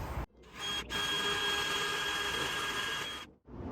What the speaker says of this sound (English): I'm going to drill a pilot hole through here.